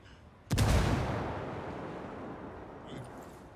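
A frag grenade detonates in the tactical shooter game Ghost Recon Wildlands, one loud, close, booming blast with a long rumbling decay that fades over a few seconds, followed by faint debris clatter.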